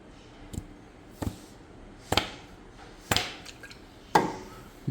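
A PET can seaming machine sealing cans gives sharp mechanical clunks about once a second, five distinct close impacts over a quiet hum, with no talking.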